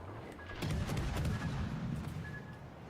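Warship guns firing shells in World of Warships: Legends produce a cluster of deep booming blasts and thuds, moderately loud and rolling over each other for a few seconds with no talk.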